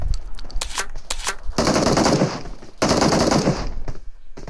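Gunfire in a PUBG custom match: a few sharp single shots, then two long bursts of rapid automatic fire separated by a short pause, loud and close.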